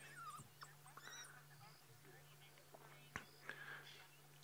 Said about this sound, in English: The African wild dog, my favorite animal.